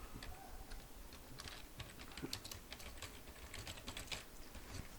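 Someone types on a computer keyboard while entering a VHDL source-file header for a full adder: rapid, irregular key clicks, quiet and close, with no voices.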